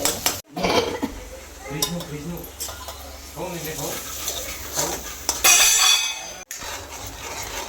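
Onion-based spice masala stirred in a metal pan, with repeated scraping and clinking of a spoon against the pan and a faint sizzle underneath, while someone talks over much of it.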